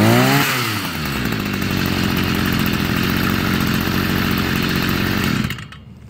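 A Stihl MM 55 small two-stroke engine runs steadily at a fast idle, its buzzing, rattling drone loud and close for about five seconds before it abruptly cuts off.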